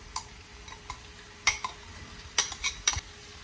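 New Orleans-style BBQ shrimp stirred into sauce in a pan, a few clinking scrapes and taps of a utensil against metal over a faint low sizzle, close and quiet between strokes, no talking.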